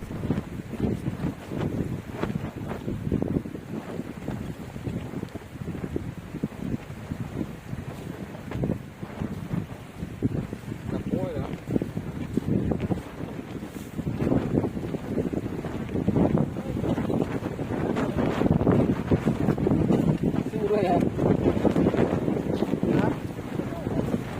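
Wind gusting across a reservoir at Dok Krai during bottom fishing, a steady broadband rumble and microphone buffeting that builds louder toward the end, with faint voices underneath.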